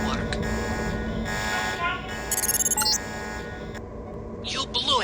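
In the video game Deus Ex, a loud, steady electronic alarm buzzer blares continuously, with game effects and a voice speaking over it.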